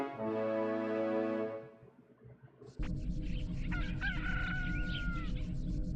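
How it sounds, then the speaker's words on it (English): A stock rooster crow from the video game Chibi-Robo rings out alone for about two seconds with a long harmonic call, followed by a brief quiet gap and then busy game sounds and music. "I love that stock rooster crowing noise."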